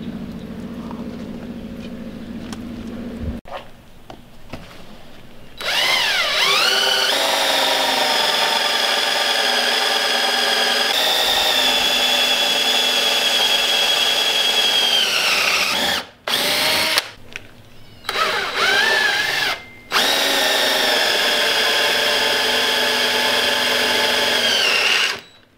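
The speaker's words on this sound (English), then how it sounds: "just gotta drill three holes" A power drill bores three holes in metal while repairing a Jayco RV tongue jack, a loud, close, sustained whine that changes pitch under load, with brief pauses between holes and no talking.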